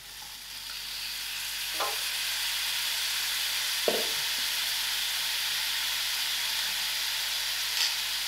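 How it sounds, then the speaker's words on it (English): Cauliflower fries in a pan with a steady, even sizzle and hiss, broken by a few brief clinks of stirring. "thereafter I'm going to add in my cauliflower and just drop it in"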